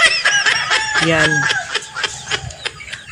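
A chicken clucks and squawks up close in a short burst, with a voice speaking over and around the bird sounds.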